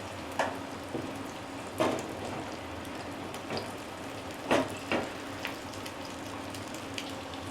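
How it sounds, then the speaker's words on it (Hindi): An egg frying in oil on a tawa griddle, a steady close sizzle broken by scattered louder pops and spatters, with no talk. "ऑयल डालते हैं तवे पे।"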